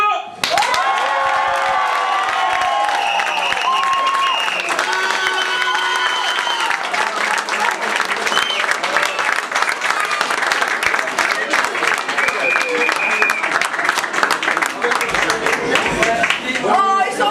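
A large audience at a ceremony in Virton claps and cheers loudly and continuously, with shouts and whistles rising over dense applause, and voices mixed in throughout.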